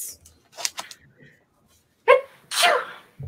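A single sharp sneeze bursts out close to the microphone, abrupt and loud against a quiet room, with brief faint noises before it.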